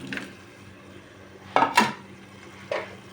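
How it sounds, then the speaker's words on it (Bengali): Fish and potatoes are stirred in a pan with a few distinct scrapes and clinks of a utensil, two louder strokes in the middle and a lighter one near the end, over quiet background. "একটু নাড়াচাড়া করি।"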